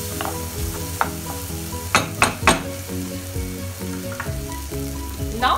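Masala with dried kasoori methi sizzles loudly in a pan while a spatula stirs and scrapes it in steady strokes, with a few sharper clanks against the pan's metal.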